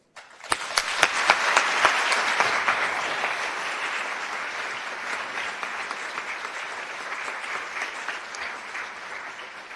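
An audience breaks into sustained applause to welcome a speaker at a lecture, a dense wash of clapping that swells quickly and then gradually tapers off.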